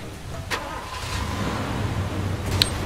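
A car engine in Far Cry 2 starts with a sharp click and then idles as a steady low mechanical rumble, fairly loud, with a second click near the end.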